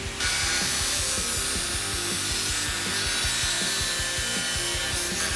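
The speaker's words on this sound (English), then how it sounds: "Angle grinders are so versatile. They're fast and effective in cutting through metal." An angle grinder cuts through a metal chain guard on a bicycle with a loud, continuous, close grinding roar. A rapid rhythmic chatter runs under the noise the whole time.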